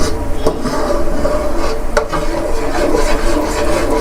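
Cream cooking down in a pan toward ghee, stirred with a utensil: a continuous close bubbling simmer broken by a few sharp scraping clicks against the pan, with no voices.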